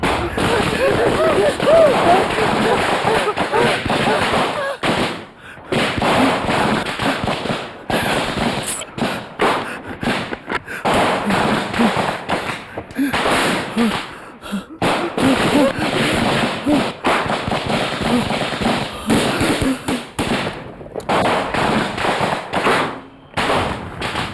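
Gunfire in a Bengali TV drama episode: rapid, loud volleys of shots cracking in repeated bursts separated by short pauses, mixed with shouting voices and dramatic background sound.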